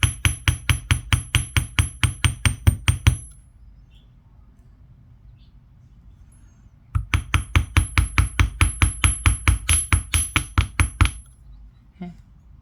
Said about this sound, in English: hammer all the way up to the other side just to texture and work harden the copper